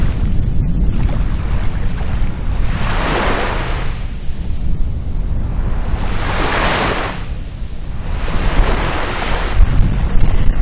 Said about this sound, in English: just the sound of the lambs and of the sea on the sand.